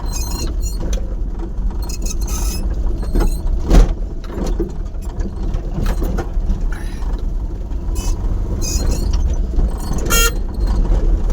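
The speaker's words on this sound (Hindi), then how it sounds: "तो निकल लिया हूँ मैं गाड़ी लेके बवाना की तरफ।" A car pulls away and drives on a busy road toward Bawana, with a steady engine and road noise, several short horn toots from surrounding traffic, and occasional rattles and clicks.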